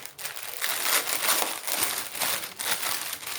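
Plastic packaging of a cross-stitch kit being opened, a steady run of close, loud crinkling and crumpling with no talk.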